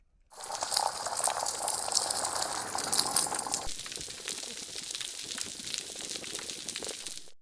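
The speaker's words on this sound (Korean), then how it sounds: "건강한 산호초 주변에는 모여든 생물들로 인해 다양한 생명의 소리가 가득합니다." Underwater ambience around a healthy coral reef, a dense continuous crackle and fizz of marine life that is louder for the first half and then settles to a softer, steady level, with no voices.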